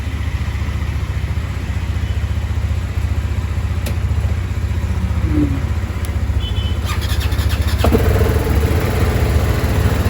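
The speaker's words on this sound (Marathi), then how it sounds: "तर गाडी पण स्टार्ट केली आहे." A motorcycle engine idles steadily at close range after a cold start, a loud continuous low thrumming that slightly rises near the end, with no talking.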